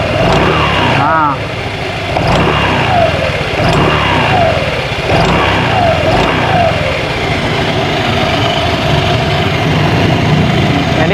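A Honda Vario 125 scooter engine revs repeatedly in close, rising and falling surges while its CVT makes a ticking noise. Someone talks over the engine throughout.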